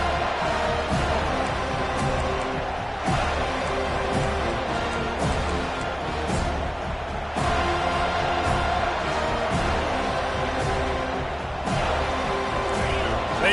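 A college football stadium crowd cheering as a steady, dense roar with rising surges, a commentator talking over the din throughout.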